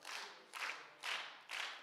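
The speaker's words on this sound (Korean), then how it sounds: "우리 박수 치면서" Congregation clapping hands in rhythm at a lively church revival service, four bursts of claps at an even pulse, moderately close, no talk.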